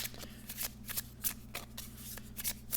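A tarot card deck is shuffled by hand close up, giving a rapid series of crisp riffling and flicking bursts in an irregular rhythm over a low steady hum.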